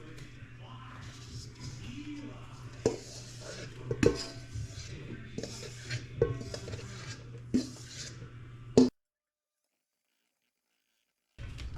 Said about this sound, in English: We're going to mix our dry ingredients into our wet mixture.